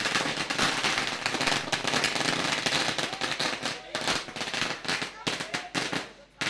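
Firecrackers burst in a long, dense rattling barrage at an outdoor prize ceremony for a village tournament, loud and continuous before breaking into separate sharp bangs near the end.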